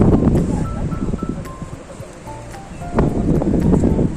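Broadband surf noise rising and falling, with waves washing in near the shore at Digha beach, West Bengal, under steady wind; a brief voice is faintly present.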